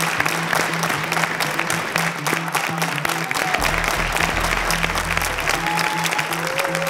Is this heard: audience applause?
yes